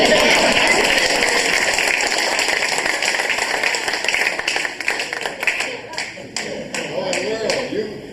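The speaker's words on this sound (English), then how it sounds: "Could we have a special round of applause for Darlene?" Audience at a 55th class reunion of West Chicago's class of 1955 breaks into loud, dense applause that slowly thins into scattered individual claps, with people talking over it.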